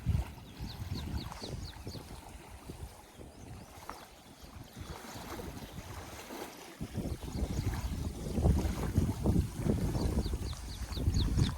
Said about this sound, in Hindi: आवाज देखिए लहरों का मैया के।